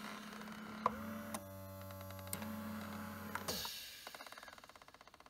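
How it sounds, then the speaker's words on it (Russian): Small compressor inside a PLANTA foot massager hums steadily with faint mechanical whine, interrupted by soft clicks, then gives way to a rapid, fading train of ticking pulses as the compression cycle ends; quiet and close. "там компрессор работает, и он вот сжимает вообще капитально"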